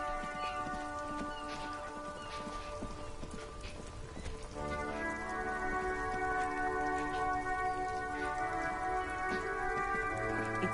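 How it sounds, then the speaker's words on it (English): Steady rain from the video game Disco Elysium patters continuously with a faint tonal hum underneath, no voices, the downpour even and unbroken throughout. "It's raining again."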